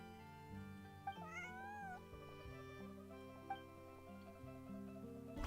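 A cat meows in the video game Genshin Impact, a few rising, wavering cries heard clearly over soft, steady background music.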